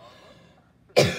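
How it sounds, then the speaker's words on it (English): A single sharp cough bursts out near the end after faint background sound, close and fairly loud. "I still have my cough"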